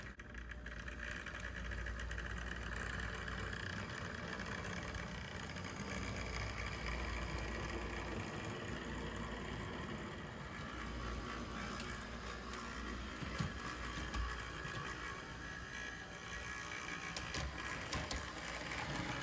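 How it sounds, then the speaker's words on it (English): A small model train locomotive motor runs continuously with a faint, steady mechanical whir and light irregular knocking. It sounds like an unbroken drone with no pauses. "it is still making a little bit of sound from the motor"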